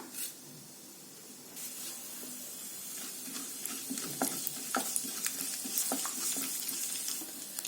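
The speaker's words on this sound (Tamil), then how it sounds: "கடுகு சீரகம் நல்லா பொரிஞ்சிருச்சு." Mustard seeds and cumin spluttering in hot oil in a clay pot, a steady close sizzle with scattered sharp pops growing busier toward the end, with no voices.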